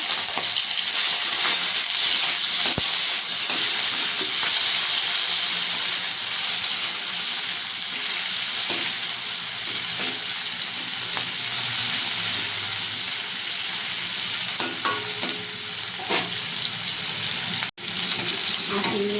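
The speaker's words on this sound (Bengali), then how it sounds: "তেল গরম হয়ে গেছে কড়াইতে চিংড়ি ভেজে নেবো" Steady, loud sizzling and crackling of prawns frying in hot oil, continuous throughout with occasional sharper pops.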